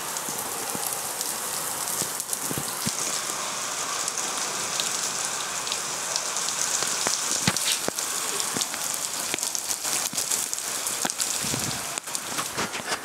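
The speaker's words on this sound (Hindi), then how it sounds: "बाहर आ रखी है बहुत तेज बारिश" Heavy rain pours steadily, a dense, continuous hiss with scattered nearby drips and splashes, and no voices.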